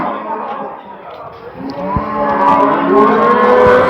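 Calves and cattle moo loudly and close by at a livestock market, one long drawn-out bellow rising over a murmur of market background noise.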